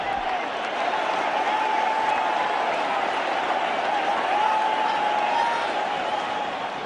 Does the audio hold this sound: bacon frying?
no